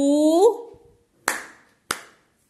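A voice speaks briefly, then children in a nursery maths class clap twice in unison, two sharp, close hand claps spaced about half a second apart, each fading quickly.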